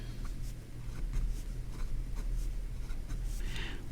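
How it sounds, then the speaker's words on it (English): A Jinhao Dadao 9019 fountain pen with a medium nib writes on paper, making soft, close scratching strokes in short bursts over a faint steady background hum. "let's see how the pen writes"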